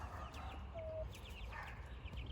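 Backyard chickens in a coop with young chicks, soft scattered clucks and a short chirp, faint and fairly distant over a low background rumble.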